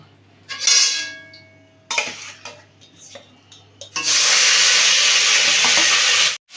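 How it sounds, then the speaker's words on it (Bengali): Prawns fry one by one in hot oil in a wok. Short sizzles come as each piece goes in, then a loud steady sizzle fills the last seconds, with faint clinks of utensils. "একে একে মাছটাকে ভেজে নেব"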